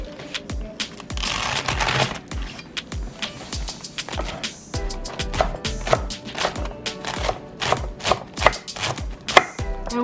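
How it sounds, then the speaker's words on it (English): A knife chopping lettuce on a board for sheet pan nachos, giving quick, repeated close cuts in an uneven rhythm that carry on throughout, with no talk. "Cutting the lettuce up."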